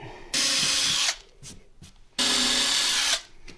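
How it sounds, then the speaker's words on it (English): A power drill boring a hole into the back of a desk in two loud, close bursts of whining, grinding noise, separated by short quiet gaps with light handling sounds. "But I'm going to put the hole all the way at the back."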